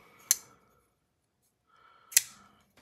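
A folding knife snaps on its detent, two crisp metallic clicks about two seconds apart, close and clear against near silence.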